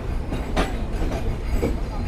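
The Kapotaksha Express passenger train rolls on rails after leaving Mobarakganj station, a loud, close rumble from inside with rhythmic wheel clatter and rattling carriage noise throughout.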